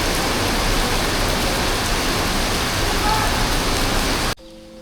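Steady rain falls at the caves near Kuala Lumpur, a dense even hiss of drops on surfaces, fairly close, before cutting off abruptly near the end into quieter tones.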